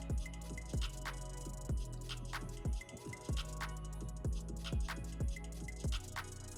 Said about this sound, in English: And just drain all that water out